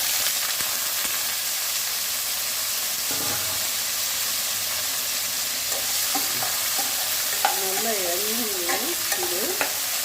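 Bitter gourd sautéing in oil in a pan, a steady close hiss and sizzle running throughout with occasional stirring scrapes and clicks, no voices.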